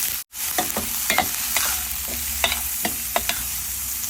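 Chopped onion fries in oil with cumin, mustard seeds and garlic, giving a steady sizzle broken by repeated light spatula scrapes and clinks as it is stirred, with no talking.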